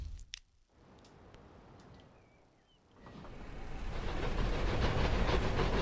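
A train passing in the transport sim Transport Fever 2, a rising rumble with rhythmic clicking that swells from quiet to steady and loud over the last few seconds.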